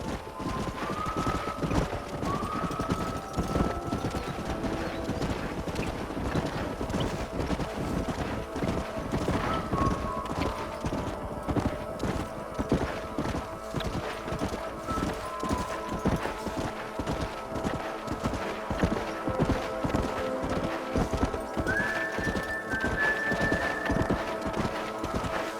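Horses in Red Dead Redemption gameplay, continuous rhythmic clip-clop of hooves at a steady pace with occasional whinnies and snorts over game ambience, moderately loud throughout.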